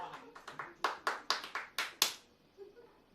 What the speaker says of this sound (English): so I'm just finishing a bit of clapping